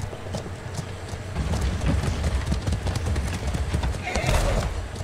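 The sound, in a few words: horse hooves clip-clopping and neighing in ATLAS video game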